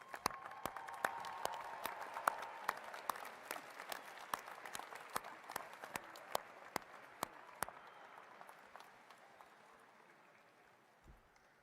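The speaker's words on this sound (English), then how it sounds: "give those in your inner circle a round of applause" Graduates at a Michigan Athletics spring commencement give a round of applause, with steady crowd clapping punctuated by a few sharp nearby claps, fading gradually toward the end.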